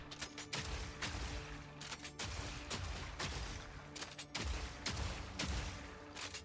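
Repeated bursts of gunfire from a Permafrost Witchhunter build in the video game Path of Exile 2, a loud, steady run of shots with brief pauses between volleys, heard alone.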